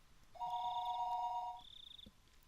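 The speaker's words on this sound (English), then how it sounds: "the phone began to ring again." A telephone rings in the visual novel game Higurashi When They Cry: one clear electronic warbling ring followed by a brief higher tone, heard alone without voices.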